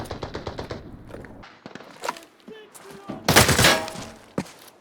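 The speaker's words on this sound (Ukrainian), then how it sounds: "Круто, вже якась стрільба." Rapid bursts of gunfire in the video game Arena Breakout: Infinite crackle and pop, with a dense, loud volley near the end and a voice speaking intermittently underneath.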